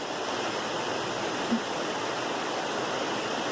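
A swollen river rushes past at Damascus, Virginia, a dense, steady roar of churning water close by that holds constant throughout without talk.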